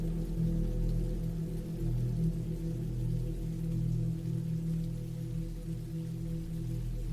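Steady rain falls in a deep woods setting as a continuous, even wash of sound with no voices, unchanging throughout.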